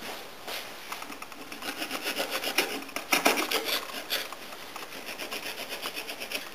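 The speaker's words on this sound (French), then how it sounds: "on va couper les tranches de poitrine nature en lardons d'à peu près 1 cm de" A knife cuts slices of plain pork belly into lardons about a centimetre wide on a board, making rhythmic rasping, sawing strokes that grow denser in the middle, close and moderately quiet.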